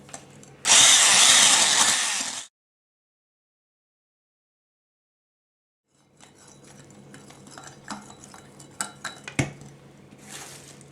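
Cocoa cake batter with baking powder and vanilla being stirred lightly in a bowl for a stovetop soufflé cake: a loud whirring burst, a pause, then scattered light clinks and scrapes of a utensil against the bowl.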